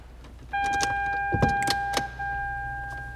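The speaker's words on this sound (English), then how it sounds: "The car turns on." A Lexus with over 600,000 miles starting up after restoration, a brief cranking rumble with clicks and chimes, then a steady idle hum beneath a pair of sustained electronic tones.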